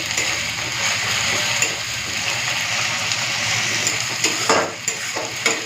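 Onion, dried chilli paste and ginger-garlic paste fry in oil with turmeric and Kashmiri red chilli powder for a chicken curry, a loud steady sizzle with repeated scraping stirs and a few sharper clinks near the end.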